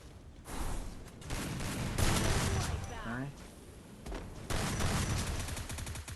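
Dense bursts of gunfire ring out in the shooter game Free Fire, rapid shots in overlapping volleys that stay loud and continuous through the stretch, with voices mixed in underneath.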